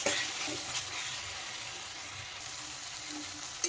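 A spice paste frying in oil in a pan, giving a steady close sizzle with faint stirring scrapes and no pauses.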